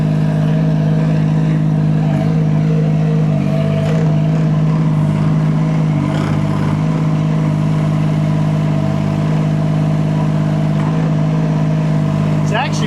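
A diesel mini excavator engine runs at a steady, loud idle close by, a constant low rumble with a firm rhythmic throb throughout and no pauses.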